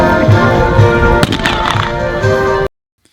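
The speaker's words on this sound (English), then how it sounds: "A cannon salute shattered the quiet morning air, echoing across the parade grounds." A cannon salute is fired at a cavalry demonstration on parade grounds: a single sharp, loud boom cuts through a steady tonal background before the sound cuts off.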